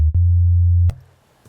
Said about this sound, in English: A basic sine bass from Nexus.